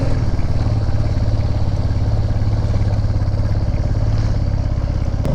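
A motorcycle engine labours up a steep mountain climb in low gear on a Spiti and Kinnaur Valley ride, a loud close steady chugging drone with rhythmic pulsing and rattly clatter, no voices.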